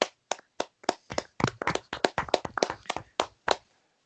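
A small group claps in sharp, separate bursts of a few hands, loud and close, through a French college-football recap podcast celebrating a Kentucky upset win, with no talking over it.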